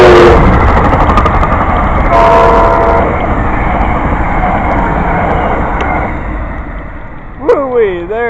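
A train rolls past with a loud, steady rumble and rattle of cars, a horn blast sounding briefly midway and again near the end; a voice talks over it close to the microphone.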